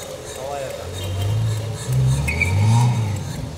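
A 2004 Toyota Camry engine revs at a used car market in Saudi Arabia, rising and falling in low steady surges with people talking over it.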